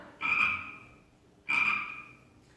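A frog croaks twice in a forest at night, two loud, raspy calls about a second and a half apart with nothing else around them.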